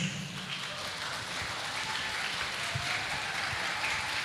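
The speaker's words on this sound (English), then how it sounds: "Give the applause." An audience applauds after an academic presentation at a faculty of economics and business event, a soft, steady patter of clapping heard from a distance and fairly faint.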